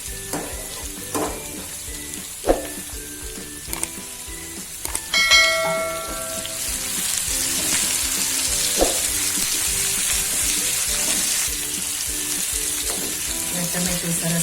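Okra and potato sabzi frying in a pan, giving a steady sizzle that rises and thickens after a few seconds. A few metallic clinks and stirring knocks come through near the start, with no talk.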